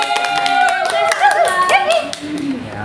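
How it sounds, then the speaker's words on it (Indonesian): Students in a classroom clap their hands in quick rhythmic bursts during a peer-teaching lesson, close and fairly loud, with voices and a sustained tonal sound running over the clapping. "Tepuk tangan."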